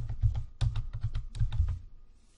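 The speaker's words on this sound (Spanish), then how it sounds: "Vamos a escribir algún texto aleatorio." Quick, irregular keystrokes on a computer keyboard as random text is typed, a close, steady run of clicky taps with brief pauses and no voices.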